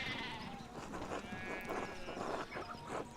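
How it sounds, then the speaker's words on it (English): Sheep bleat repeatedly in the video game Pentiment, several wavering calls overlapping in a penned flock, fairly close and clear with no speech over them. "one of the fence rails fell and the sheep started hopping it"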